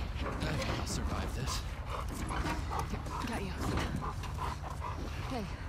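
A dog in the video game The Last of Us Part II whimpers and pants in short yips through a dense, noisy in-game scene, with voices talking over it.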